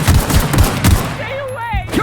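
Several rapid, heavy shotgun blasts in the video game The Outer Worlds, loud and close, followed by warbling whistling effects as the firing stops.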